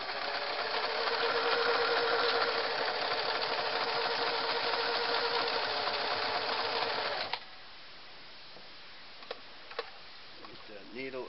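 A Singer Model 353 Genie sewing machine running steadily for about seven seconds, a loud rapid mechanical whir of stitching that stops abruptly, followed by a few faint clicks and handling noises.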